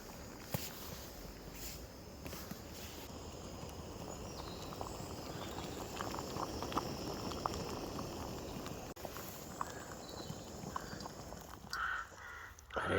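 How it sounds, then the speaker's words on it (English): A pot of water boils over an outdoor campfire at a solo tarp-and-tent camp, giving a steady close bubbling and hiss that runs throughout, with a few faint clicks and knocks near the end. "Water's boiling."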